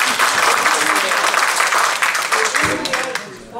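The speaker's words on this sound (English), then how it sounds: "Would you please just not applaud?" An audience bursts into loud, dense applause at a city council meeting on doubling the tax rate, many hands clapping together close by, fading somewhat toward the end.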